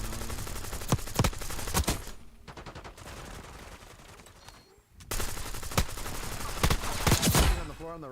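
Rapid gunfire in Black Ops 6 Zombies on the Liberty Falls map, sharp repeated shots and bursts in two clusters separated by a quieter stretch, loud and close.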